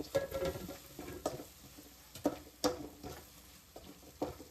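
A spoon stirs coriander powder and chilli into food cooking in a pan, giving soft intermittent scrapes and taps over a faint sizzle, quiet and close.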